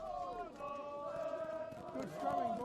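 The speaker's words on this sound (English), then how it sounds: "You can hear Te Aute full voice cheering on their men" Te Aute supporters chant and cheer in full voice at a schoolboy 1st XV rugby match against Hato Pāora, a sustained crowd roar with rising tones that swells louder near the end.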